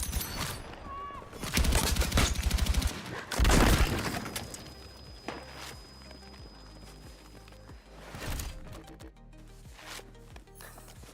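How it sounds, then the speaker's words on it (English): Grenade blast in the Battlefield 6 battle royale game, a sharp loud burst with crackling debris amid rapid bursts of gunfire and game effects, followed by scattered quieter in-game sounds. "That was a good grenade, huh, bro?"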